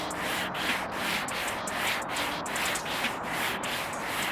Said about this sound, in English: So you're going from 60 to 400 grit with a cork sanding block.